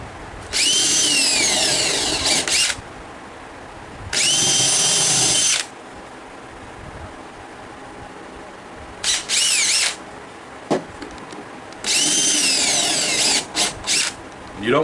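A power drill bores through a wooden board for a glider bench, with four loud bursts of high whining spin separated by quieter pauses of handling noise.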